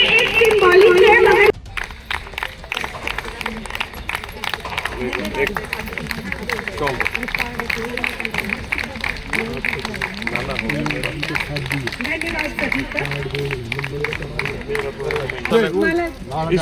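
An audience at a women's entrepreneurship day event gives a sustained round of brisk, dense clapping lasting most of the clip, with voices and chatter mixed in.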